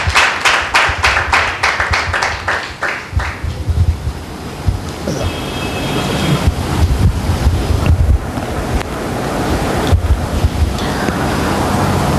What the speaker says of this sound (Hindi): एक जोरदार ताली देंगे परमेश्वर की महिमा के लिए